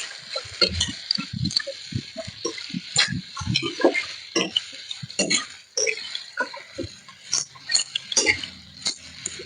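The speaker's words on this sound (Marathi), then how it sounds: "तर ह्याला आपण हलक्या हाताने असं लाल होईस्तोवर परतून घेऊ." Onions are stirred gently in a pan until reddish for a Marathi onion curry. Irregular spatula clicks and scrapes sit over a soft sizzle, close by, with no talking.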